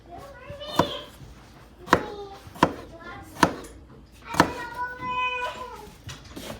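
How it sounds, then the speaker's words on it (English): Knife chopping slices of food into small cubes on a cutting board, sharp distinct chops at an irregular pace, close and fairly loud, with a soft voice-like tone in the background. "Cut each slice in half, little cubes."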